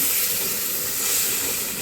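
Water splashed onto ground-cumin spice paste frying in a pan gives a loud, close, continuous sizzling hiss that holds steady throughout.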